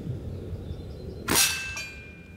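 An Umarex Nitro nitrogen-powered PCP air rifle fires a heavy pellet in one sharp crack, followed by a short ringing metallic clang from the target, close and alone over faint background hiss.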